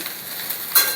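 Chopped okra frying in oil gives a steady, close hiss and crackle, with a sharper burst of sizzling near the end of the short stretch.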